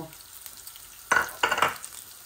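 Cumin, fenugreek, garlic and two bay leaves sizzle and crackle in hot oil, with a couple of louder bursts as they are stirred, close and without talk.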